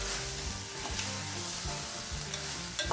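Cooked French beans tossed in a hot pan: a dense, continuous sizzle with rhythmic scraping of a spoon, close and steady throughout, with no speech.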